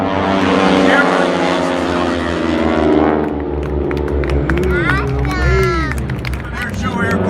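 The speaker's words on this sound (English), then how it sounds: "Pilots make it look easy as they do the barrel roll" Propeller-driven aerobatic airplanes roar overhead at an air show near the Gateway Arch in St. Louis, their droning engines rising and falling in pitch as they maneuver, loud and continuous, with a commentator talking over them.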